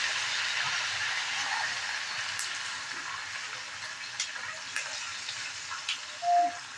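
Red chillies and curry leaves sizzle in hot oil for a Maharashtrian phodni tempering. A steady, fairly soft hiss plays on its own, with a few faint pops and clicks.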